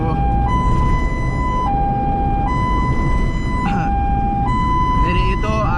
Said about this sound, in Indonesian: Jadi itu arti dari suara sirine ambulans.